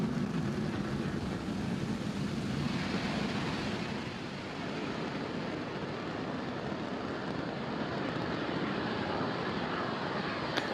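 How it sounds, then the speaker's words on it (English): A SpaceX Falcon 9 rocket lifts off from Space Launch Complex 40 at Cape Canaveral with a distant, broad rumbling roar that holds steady and swells slightly partway through. "Falcon 9 has successfully lifted off from Space Launch Complex 40 at Cape Canaveral Space Force Station"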